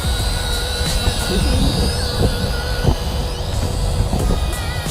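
A Syma X54HW wifi drone flying, giving a steady, loud whirring buzz of small propellers close by, with a child and an adult talking faintly under it.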